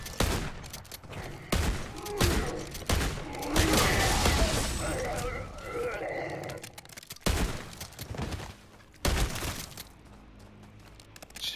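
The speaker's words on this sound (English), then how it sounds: "I missed him with like 10 shots." Video game gunfire from Modern Warfare 3 Zombies plays as bursts of rapid shots and clattering reload mechanisms, loud and near, with short pauses between volleys and no talking.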